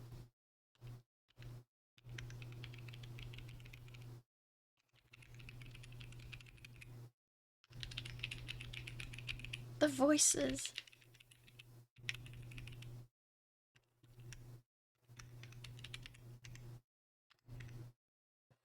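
Mechanical keyboard with Pastel Sand linear switches typed on in bursts of quick key clacks, separated by short pauses, fairly close, with a steady low hum underneath.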